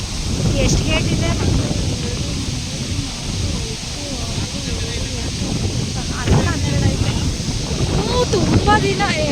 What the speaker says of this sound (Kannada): ನೀರು ಸೌಂಡ್ ಹೆಂಗೆ ಕೇಳಿಸ್ತಿದೆ ಅಂತ.